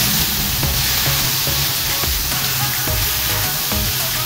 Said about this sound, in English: So, while the beef is cooking